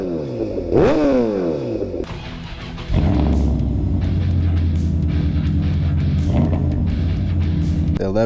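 An 1100 engine, freshly repaired, idles with a deep rumble and is revved, with a rising and falling rev early on followed by a steady loud idle and a lighter blip, while someone speaks over it.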